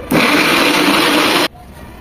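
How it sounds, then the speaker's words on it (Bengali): A blender whirs loudly and steadily for about a second and a half, close up, then cuts off abruptly while chicken is blended with garlic, soy sauce and black and white pepper. "এখন এগুলো একসাথে ব্লেন্ড করে নেব।"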